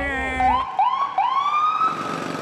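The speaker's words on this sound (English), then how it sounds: "there's a lot of sirens" An ambulance siren wails close by, its pitch rising in repeated swoops over a steady background rumble.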